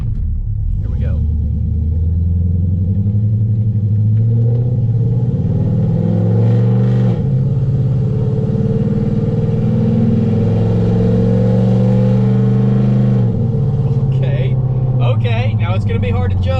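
A Chevrolet Silverado truck fitted with an equal-length Corvette-style exhaust rumbles loudly and close, its deep engine note rising and falling through several revs over a steady idle, with a voice speaking over it.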